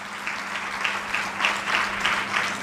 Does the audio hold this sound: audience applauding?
yes